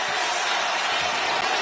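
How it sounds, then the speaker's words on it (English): Dense roar of a basketball arena crowd in Cleveland during a close March Madness game between Robert Morris and Alabama, a loud, continuous swell of many voices with no break. "Crowd bubbling up now in Cleveland."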